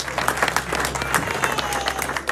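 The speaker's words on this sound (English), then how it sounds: "Let's hear it for Luke Muff" An audience at a speedway press conference applauds steadily, a dense patter of clapping hands filling the room for a couple of seconds with faint voices mixed in.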